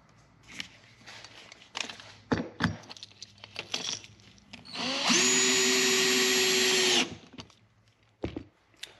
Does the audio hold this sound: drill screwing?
yes